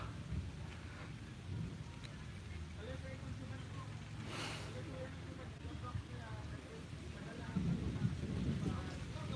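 Rain falling steadily during a storm on Malapascua island, with a soft wash of drops and a low, distant rumble of thunder rising midway, underneath a continuous murmur of talk.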